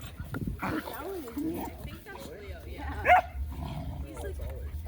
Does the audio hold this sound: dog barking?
yes